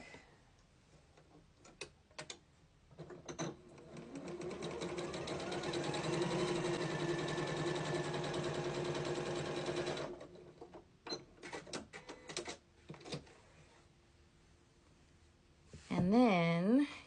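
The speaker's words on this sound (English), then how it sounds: "I'm going to sew a 1/4 inch line on both sides of this." A sewing machine runs a quarter-inch seam through quilting fabric for half square triangles, a steady rapid stitching whir lasting several seconds, preceded and followed by scattered clicks and handling noises.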